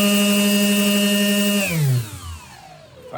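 An RC motor spins a 3D-printed three-bladed 7.5-inch fixed-blade propeller on a thrust test stand, a loud steady whine that holds then winds down sharply in pitch as the motor slows.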